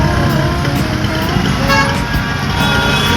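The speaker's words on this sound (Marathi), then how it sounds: "बघा ट्रॅफिक बघा किती." Busy road traffic in Dindori village, with a constant loud roar of engines and repeated short car horn toots close by, and a voice faintly under the din.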